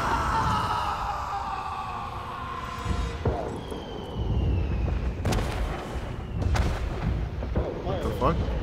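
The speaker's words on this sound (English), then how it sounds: "Why is there fireworks?" Fireworks in the Dungeons & Dragons Dark Alliance video game boom and crackle in repeated bursts, loud and layered over game sounds, with voices speaking at times.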